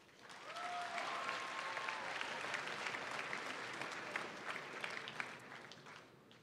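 Audience applause at the Idaho FFA State Leadership Conference, a large hall of clapping that swells quickly and holds steady for several seconds with a few whoops before easing slightly.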